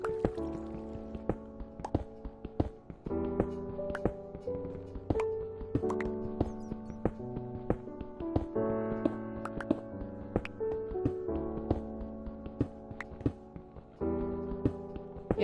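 Water drips in the video game Minecraft, sounding as repeated small plinks over a busy background of in-game music or ambience, steady throughout.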